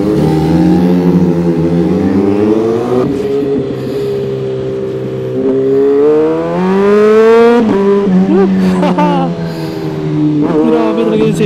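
Kawasaki ZH2 supercharged motorcycle in sport mode with a loud red aftermarket exhaust, revving hard and pulling through rising, falling gears; the engine note is close, loud and continuous for the whole stretch.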